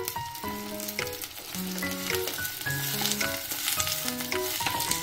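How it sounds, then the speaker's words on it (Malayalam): Onion, cloves and cinnamon sauté in a pan for a mushroom curry, giving a steady, close sizzle and frying hiss, with melodic tones sounding throughout. "അതും കൂടി ഇതിൽ കിടന്നൊന്ന് വഴണ്ട് വരണം."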